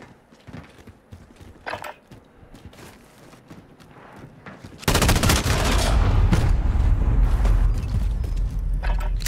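Gunfire in the video game Call of Duty Modern Warfare: scattered muffled shots and game sounds at first, then a sudden loud burst of dense, sustained automatic fire filling the second half.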